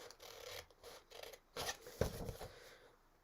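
Paper being cut by hand with scissors to make a gift bag: quiet, uneven snips and soft rustling scrapes, close by and fairly faint, with no talking.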